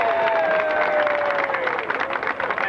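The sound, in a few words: applause for William F. Hertz at Walk of Fame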